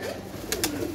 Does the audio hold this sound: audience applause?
no